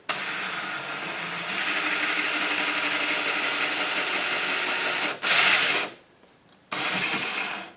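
A power drill runs slowly into a wall in a steady, near whine for about five seconds, followed by a brief louder burst, a short pause, and another run of the motor.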